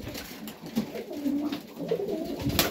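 Highflyer pigeons in Melbourne coo softly in low, burbling phrases that repeat several times, fairly close but quiet, over a faint background hiss.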